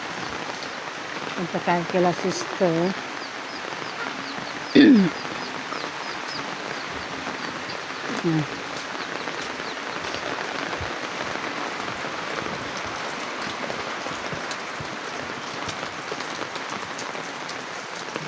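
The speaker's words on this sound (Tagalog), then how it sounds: "ulan-ulan" Light rain falls steadily outdoors, a constant close patter on surfaces, with a few brief knocks and a short spoken remark early on.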